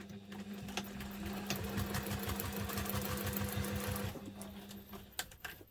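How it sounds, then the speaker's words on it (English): A sewing machine stitches the outside of a bag with black thread, a quiet rapid mechanical chatter with a steady hum that runs for about four seconds, then stops, leaving a few faint clicks. "as I'm sewing up the outside of the bag"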